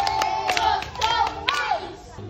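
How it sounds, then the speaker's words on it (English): Children in a dance class clap hands together in a quick, uneven burst, with high childish voices calling out over the claps nearby. "Clap for Katongwe"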